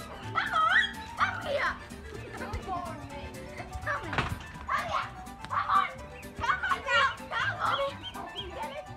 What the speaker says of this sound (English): This is, by the way, the world's best dog ever.